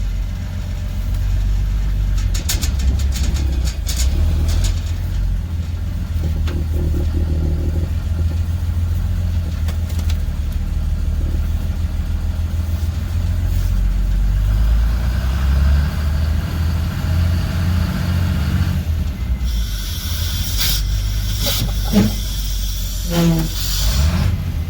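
A prewar Silversides bus on its first test drive: a steady low engine drone with road rumble and hiss throughout, rising into a louder, brighter mechanical whine near the end.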